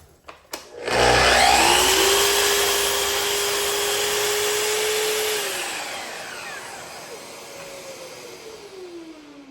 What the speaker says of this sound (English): now we've got our piece cut to the right length